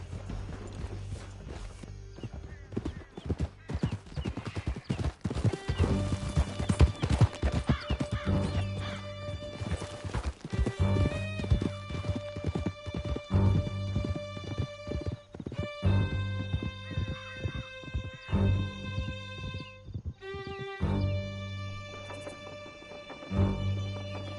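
Horses galloping at speed through a canyon in Red Dead Redemption 2, steady rapid hoofbeats with occasional whinnies and crashes over a dense music-laden game soundscape, loud and continuous throughout.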